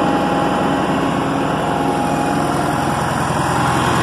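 A John Deere 450 diesel dozer engine idles loud and steady, a constant rumbling drone with no voices over it.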